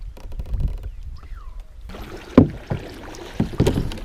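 A kayak moves on open water with soft sloshes and paddle splashes, a couple of knocks against the hull, and light wind noise across the microphone.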